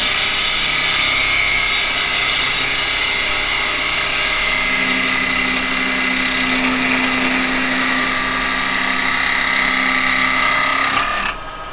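A spindle gouge cuts into wood spinning on a lathe, producing a loud, continuous, harsh scraping whine with a steady motor hum beneath, ending abruptly as the tool lifts off.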